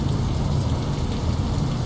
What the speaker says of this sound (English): the rain is, it's like it's landing on a lens